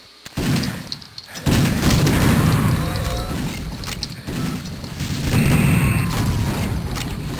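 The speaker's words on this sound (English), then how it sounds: "I saw that bomb at the last second." Bomb explosion in a Doom mod, heard as loud, booming blasts amid gunfire and mechanical game effects, with a dense, roaring rumble sustained between hits.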